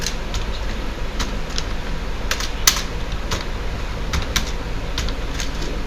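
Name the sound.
typing an address on a computer keyboard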